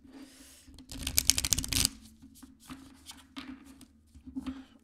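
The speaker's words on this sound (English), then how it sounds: "Let me just shuffle these a little bit." Tarot cards being shuffled close by, a quick riffling burst followed by several softer shuffles and card flicks, in an otherwise quiet room.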